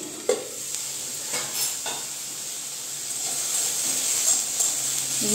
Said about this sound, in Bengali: পটলটা আমি স্টিম কমিয়ে আস্তে আস্তে একটু মজিয়ে নিব।